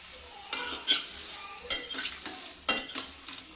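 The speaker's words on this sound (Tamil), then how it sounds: "இந்த புளியையும் போட்டு தக்காளியோடய சேர்த்து வேக வைக்கணும்" Tomatoes and tamarind cook in a pan for tomato pickle, a soft low sizzle broken by several sharp scraping stirs and clinks of a spoon against the pan, close by and with no voices.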